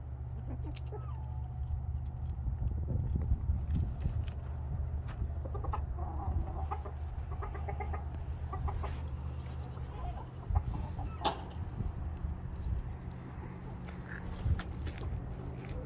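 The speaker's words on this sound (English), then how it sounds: "Let's check on the chicks." Chickens cluck intermittently over a steady low hum outdoors after rain, the calls fairly faint and scattered through the background.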